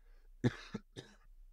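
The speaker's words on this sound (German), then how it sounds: "muss ich mich nochmal räuspern" A short throat clearing, a gruff burst followed by two smaller rasps, close and fairly quiet, with no talking.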